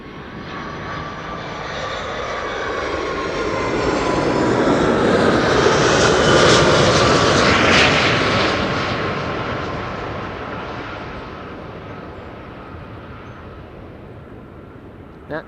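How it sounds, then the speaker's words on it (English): A Boeing 757 jet in special livery roars past on arrival at Amsterdam Schiphol, a loud broadband rush swelling to a peak and slowly fading, with no talk. "This is a 757 special livery"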